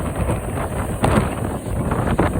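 Strong wind gusts roar against the microphone during a high-wind storm at a fish camp, a loud continuous rush with a sharper surge about a second in.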